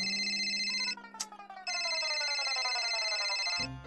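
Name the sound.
phone ringing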